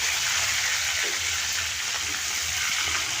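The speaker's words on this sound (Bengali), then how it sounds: "এখানে আমি কাতলা মাছের মাথাগুলো এরপর আমি ভেজে নিচ্ছি" Catla fish heads frying in hot oil for a Bengali curry in a village kitchen, giving a continuous bright sizzling hiss that stays steady and close for the whole moment.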